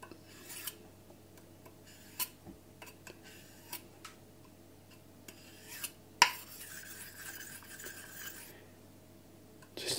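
A Miyagoshi kitchen knife has its edge dulled before whetstone sharpening, giving faint intermittent scraping ticks and taps followed by a longer gritty rasping stroke, close and quiet with no talking.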